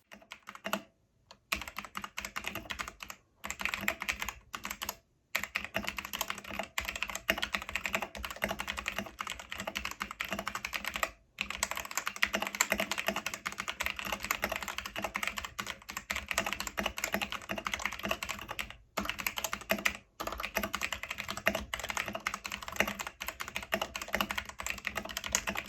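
Steady, close typing on a modified mechanical keyboard with reduced metallic ping, key clacks running continuously with a few brief pauses and no voices.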